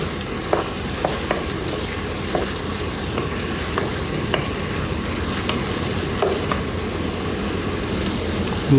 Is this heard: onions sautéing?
yes